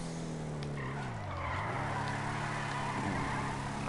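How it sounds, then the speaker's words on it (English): Tires screech and skid in a sustained wheel spin as a Shyster Deviant muscle car launches from a dead start in GTA Online, engine roaring loudly underneath throughout. "A lot of wheel spin from a dead start."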